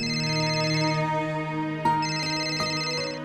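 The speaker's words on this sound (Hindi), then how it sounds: "रिया तुम्हारे लिए फोन है।" A steady electronic ringtone plays a repeating melodic tone pattern, sustained and fairly loud, with no voices.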